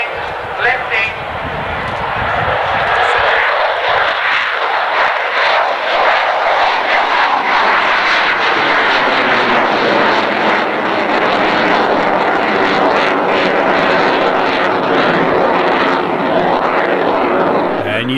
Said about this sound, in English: you don't see a U2 display very often